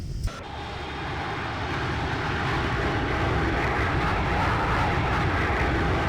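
Boeing 757 jet engines in a flight simulator roar up into a loud, steady rushing whine as thrust reversers deploy after landing, a broad sustained thrust that holds without letting off.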